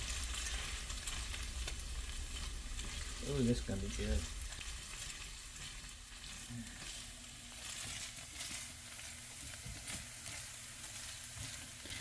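Spam fried rice with peas sizzles and frying steadily in a pan, with brief stirring clatter early on and a voice speaking over it.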